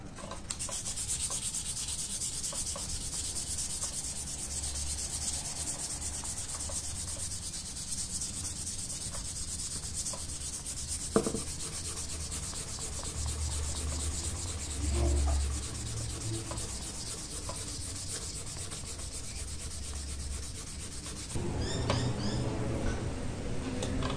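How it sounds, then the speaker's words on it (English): A wooden handle of a Japanese Santoku knife is sanded by hand: continuous, close, scratchy rubbing strokes that carry on steadily, broken by a few light knocks and a brief change in texture near the end. "we're going to sand this back and then we'll hit the whole thing with some wax"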